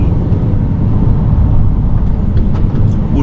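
A vehicle drives steadily toward a construction company's container compound, making a loud, continuous low road rumble and engine drone with no pauses.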